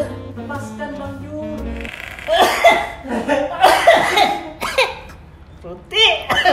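Someone coughs hard after inhaling vapor from a fruity vape liquid, a few loud harsh bursts close to the mic mixed with laughter and voices.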